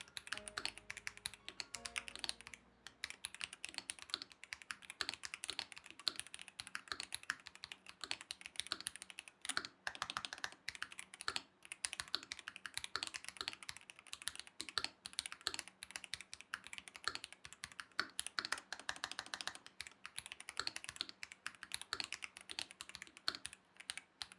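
Steady, rapid clacking of the mechanical switches on an ASUS ROG Azoth keyboard as someone types continuously, close and fairly quiet, with no talking.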